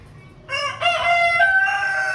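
An Aseel rooster lets out a single loud, close crow that rises and holds. The crow starts after a short quiet stretch.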